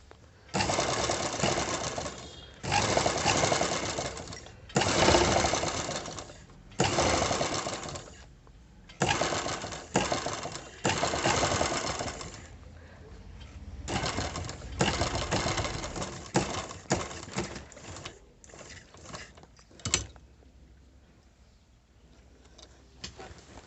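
Sewing machine stitching an embroidered, beaded blouse, running in loud bursts of rapid stitching separated by short pauses, close and alone with no talk.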